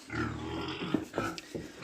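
Pigs grunt and squeal nearby on a village farm in short, rough bursts, fairly faint, with no talking.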